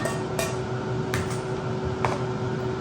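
Broccoli tipped into a large mixing bowl for lasagna roll ups, heard as a few sharp clinks and knocks against the bowl spaced over a quiet kitchen background.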